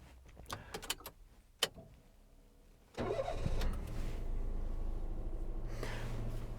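A 2011 Daihatsu Tanto X kei car, a Japanese import, is started with a brief crank and catches at once. It then settles into a steady, fairly quiet idle after a few light clicks and rustles beforehand.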